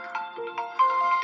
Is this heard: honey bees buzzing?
no